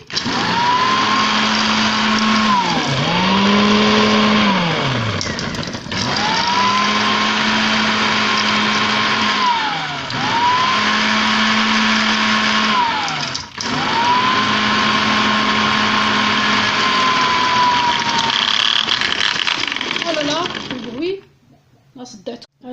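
A loud blender mixing a batter with sugar whirs continuously, its motor pitch dipping and rising as the load shifts, with short pauses before it cuts off at the end.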